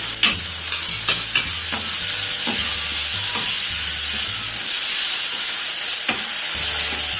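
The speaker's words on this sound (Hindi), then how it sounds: "केचप भी डाल देंगे, सोया सॉस डाल देंगे।" A filling with chili sauce, ketchup and soy sauce fries loudly in a pan for calzone pizza pockets, a steady bright sizzle under repeated scraping and clacking of a spatula being stirred through it.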